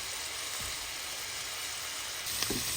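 Capsicum tossed into a hot frying pan for chicken chow mein sets off a steady broadband sizzle, with a brighter burst of hissing near the end as the oil reacts.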